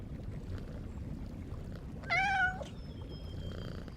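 A cat gives a single short meow over steady low background noise, brief and fairly close, with no purring evident.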